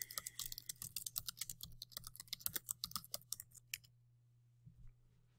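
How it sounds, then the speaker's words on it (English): Quick, close keystrokes tap out on a computer keyboard in an irregular run for about four seconds, then stop, leaving a quiet room with a faint steady hum. "let's type something in."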